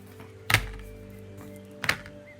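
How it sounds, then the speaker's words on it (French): Two oracle cards are laid down, each making a soft, close thunk on a table about a second and a half apart, over a low steady hum with no talking. "je vais tirer 2 cartes de la lunologie"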